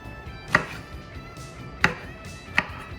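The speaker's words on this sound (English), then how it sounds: "So cut a little bit of carrot, a little bit of mushrooms" A knife chopping carrot and mushrooms on a cutting board, three sharp separate chops spaced unevenly over a few seconds, close and distinct against faint kitchen background.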